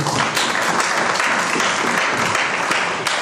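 A church congregation applauds in praise: dense, even applause from a crowd, loud and sustained throughout with no voices standing out.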